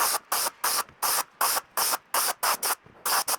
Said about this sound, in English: Let's spray the inside for a second coat.